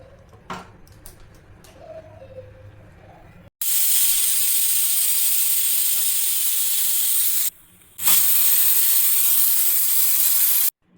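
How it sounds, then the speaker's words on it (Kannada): Pressure cooker whistling while mutton sambar cooks, two loud, sustained steam whistles that each hiss for a few seconds, separated by a short quiet gap, after some faint kitchen clatter. "ಎರಡು ವಿಸಿಲ್ ಆಗಿದೆ."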